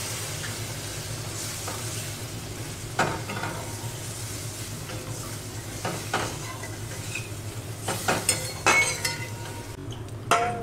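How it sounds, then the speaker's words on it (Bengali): Gravy simmering in a pan after water is added to fried masala for potol dorma, a steady close bubbling sizzle with spoon clinks and scrapes against the pot growing busier toward the end, without talk. "কষানো হয়ে গেছে, আমি জল দিলাম"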